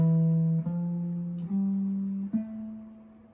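A jazz guitar solo line played legato, four sustained single notes sliding smoothly into one another, each ringing out into the next, clean and close with no talk.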